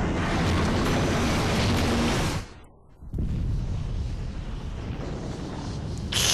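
A crashing airship in Final Fantasy IX, heard as a loud, sustained roaring rumble that drops out briefly to near silence, then surges back in a dense, crashing wash.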